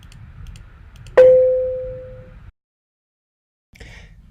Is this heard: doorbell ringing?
yes